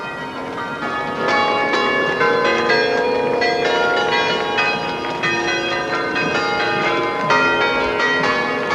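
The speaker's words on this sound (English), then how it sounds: "If you listen, you will hear why we call this the bell wagon." Nine large bells on a Ringling Brothers circus bell wagon ring out a continuous, loud melody, overlapping chimes sustaining and blending together without pause.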